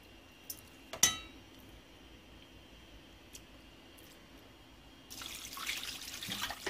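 Water pours into a cooking pot during home cooking, a steady splashing rush beginning after a few quiet seconds and a single sharp clink, continuing loud to the end.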